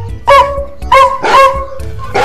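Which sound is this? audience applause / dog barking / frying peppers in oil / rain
dog barking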